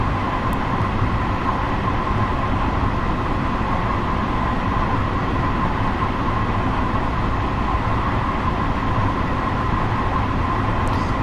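Continuous rumble and hum of a commuter train in the Train Sim World 2 game, a Harlem Line M3A or M7A running at about 64 mph, steady and loud throughout with no voices.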